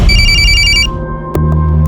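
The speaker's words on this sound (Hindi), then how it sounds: "एक रात अचानक उसका मुझे फोन आया" Telephone ringing loudly up close, an electronic ringtone burst followed by a short pause and a fresh tone, no voices.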